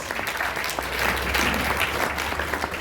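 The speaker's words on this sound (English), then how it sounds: "a round of applause for that" A brief burst of steady clapping from a small audience, close and even, with no voices over it.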